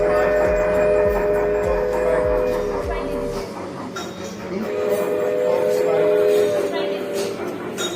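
A miniature toy train runs along a table track in a train-themed restaurant in Silchar, delivering food. Its rhythmic clicking wheels are heard early on, then a steady rolling hum mixes with busy dining-room chatter.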